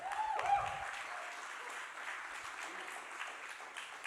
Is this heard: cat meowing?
no